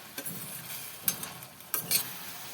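Tamarind sautéing in a pan for a potato-and-tamarind kuzhambu, with a soft, steady sizzle broken by a few scraping stirs of a spoon against the pan.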